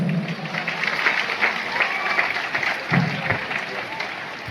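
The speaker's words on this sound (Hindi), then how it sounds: "तो जोरदार ताली के साथ सर का अभिनंदन कीजिए।" A hall audience at a company anniversary event claps to welcome a speaker, a steady moderate wave of applause with some crowd voices and cheers running through it.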